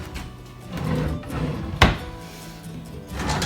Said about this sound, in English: Make sure that the drawers and doors open correctly.